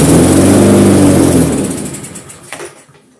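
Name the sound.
lawn mower engine starting on carburetor cleaner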